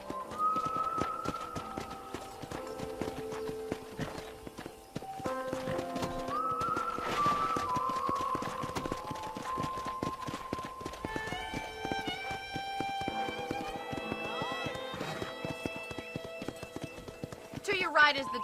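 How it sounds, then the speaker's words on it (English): A horse clip-clops along in Red Dead Redemption, the hoofbeats steady under a bed of game music and a talking voice. "I picked out a fine horse for you."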